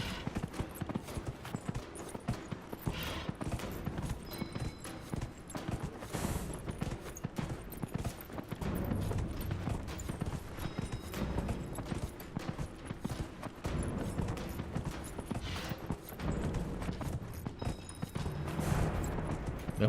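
Horse hooves clip-clopping in a video game, a steady, fast galloping rhythm of hoofbeats running throughout at moderate level, with a faint background bed and occasional game sounds.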